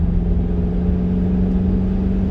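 A Hummer H3 Alpha 4x4 with a 5.3L V8 pulls away under light throttle, giving a steady, close, low engine drone with a constant hum and no talk.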